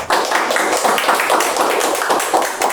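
Audience applause at an academic conference session welcoming a presenter: dense, close rhythmic clapping from many hands, loud and sustained across the whole moment, with no talking over it.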